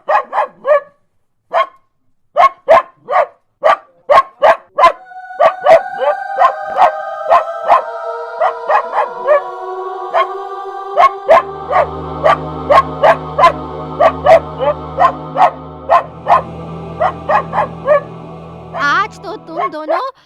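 A cartoon dog barks in a rapid series of sharp, loud yaps that keep going throughout, later turning into howling and whimpering layered with music, with no talking.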